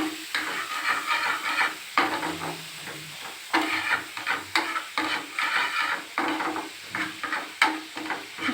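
Masala spices fry in hot oil while being stirred, giving a steady sizzle broken by frequent scraping strokes of the spoon against the pan, close and loud with no talk.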